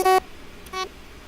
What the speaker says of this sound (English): Beeping again